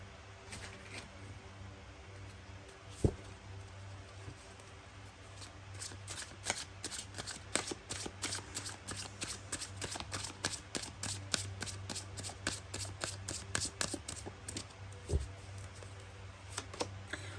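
Tarot cards being shuffled at close range, with a soft start that builds into a long run of rapid, even riffling flicks and an occasional louder tap, with no talking.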